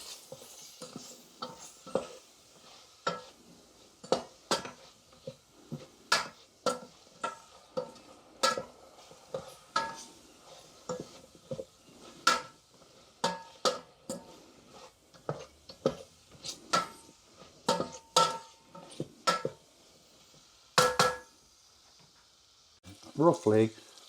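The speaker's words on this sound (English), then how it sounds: "Two teaspoons of Cajun spice mix. Give that a stir in." Cajun spice mix being stirred into jambalaya in a Trangia camping pot, a run of short scraping, clinking spoon strokes in an irregular rhythm, close and fairly clear, with a brief clatter near the end.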